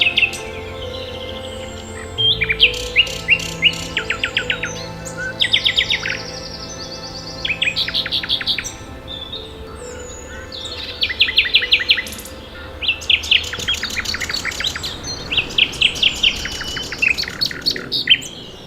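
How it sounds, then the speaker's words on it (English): A nightingale sings at a nature reserve in Fingringhoe Wick, delivering bursts of rapid, varied whistles and trills, clear and fairly close, with faint insect chirring in the background. "for the first song of the nightingale"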